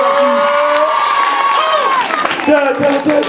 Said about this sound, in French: Donc on les applaudit encore bien.